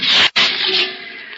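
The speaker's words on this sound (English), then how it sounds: "that's the sound of a drop of water on the body of your car after it's been exposed to the sun's heat" A drop of water hitting a sun-heated car body, a bright sizzling hiss broken by a short gap, then a fading sputter that trails off within a second or so, with no voices.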